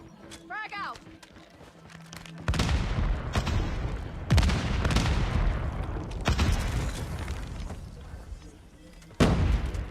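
Gunfire from Call of Duty: Mobile at a Nairobi LAN tournament, heavy bursts of automatic shots and booms in loud waves, with spoken commentary running under and between them.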